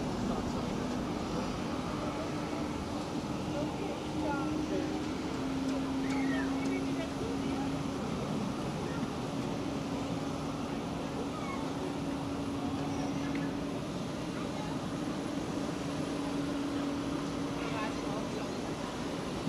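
An Airbus A340 airliner at Zurich Airport gives a steady, moderately distant engine drone with a constant low hum that holds evenly from start to finish.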